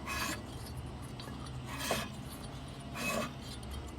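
A free lawn mower engine is turned over by hand, fitted with a spark plug and coil and showing low compression, giving faint, quiet scrubbing rasps in three separate bursts against a low background hum.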